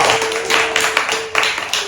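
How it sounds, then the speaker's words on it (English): A small group claps in a short, lively burst of applause after a pearls of wisdom team game, with scattered near hand claps that hold steady for a couple of seconds. "Give him a round of applause"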